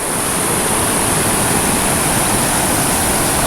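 Loud, continuous rush of water, a dense roaring wash like a waterfall or fast river, steady throughout with nothing else audible.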